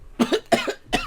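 One person coughs three times in quick succession, close and loud, each a short harsh burst with brief gaps between.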